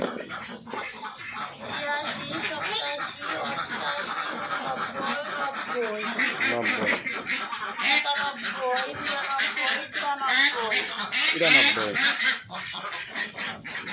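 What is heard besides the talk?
ducks quacking on a duck farm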